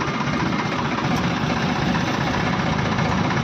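Tractor engine idling on a farm, a steady loud mechanical rumble with constant knocking vibration, running alone without talk throughout.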